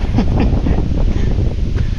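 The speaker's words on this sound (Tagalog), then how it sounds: "Ayan yung hangin, mga birds, oh. Pabuelo-buelo yung hangin." Gusty storm wind buffets the microphone in strong, continuous low roaring bursts, with a faint wash of water behind it and no speech.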